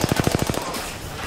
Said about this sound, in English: bullet firing.